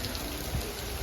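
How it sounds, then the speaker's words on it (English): Morning rain falls in the Appalachian mountains during a thru-hike, a steady close patter of drops on surfaces, continuous and moderately loud with no voices. "It is raining already this morning."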